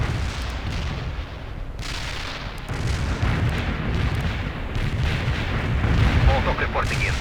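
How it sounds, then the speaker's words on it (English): Mortar barrage in the World in Conflict strategy game, heavy booming artillery impacts and rumbling blasts in repeated volleys, loud and close, with battlefield voices mixed in. "Firing mortars. The barrage will reach you soon."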